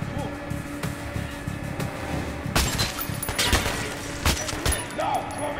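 Gunfire in Metro Last Light: a few sharp shots and a short burst crack out over low background rumble, while a player's voice comes in briefly.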